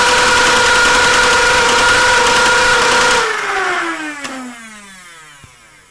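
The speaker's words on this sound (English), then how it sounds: "So we should have flywheel power, which we have. So let's see if we've got pusher." Foam dart blaster with flywheel and pusher motors running on jumper box power: a loud, steady high motor whine that cuts off after about three seconds and winds down in a falling tone.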